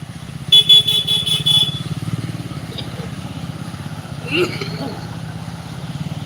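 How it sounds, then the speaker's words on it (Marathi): A vehicle on a village road, with a burst of repeated horn toots up close followed by a steady engine drone as it moves along, voices faintly in the background. "ही जी गाडी आलेली आहे ही निरगुसरच्या दिशेने चाललेली आहे"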